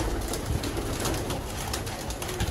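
Young racing pigeons kept for sale coo continuously in a close, crowded chorus, the low burbling calls overlapping without pause and no voices present.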